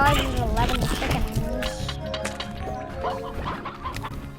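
Chickens in the video game Slime Rancher cluck and squawk in a busy overlapping cluster, loudest at the start, then thinning into scattered calls while a voice talks over them.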